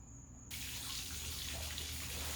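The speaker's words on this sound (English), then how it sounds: "I'm gonna spray my own damn water" Water sprays from a garden hose, starting abruptly after a brief quiet moment and then rushing steadily and close by with a bright hiss.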